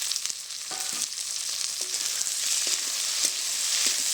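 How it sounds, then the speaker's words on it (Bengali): Chopped onion and green chilli frying in a pan after ginger-garlic paste, a bright, dense sizzle that holds steady and close, with a few light clinks of a spatula, no voices. "এবারে দিয়ে দিচ্ছি পেঁয়াজ কুচি আর দিয়ে দিচ্ছি কাঁচা লঙ্কা"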